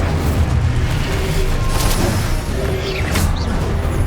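A blast of the Incendio fire spell in Hogwarts Legacy bursts out as a dense, roaring whoosh with rumbling booms, loud and continuous through the moment, with small crackling pops near the end.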